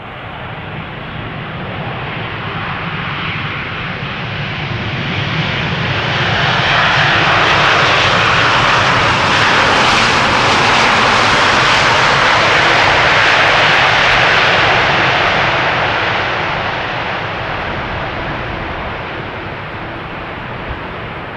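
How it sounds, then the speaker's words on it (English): An airplane landing at Schiphol Airport roars loud and close, its engine noise swelling broadly to a peak as it passes and then easing off. "Let's hope it is going to be a loud landing."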